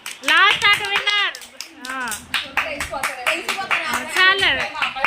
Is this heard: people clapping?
yes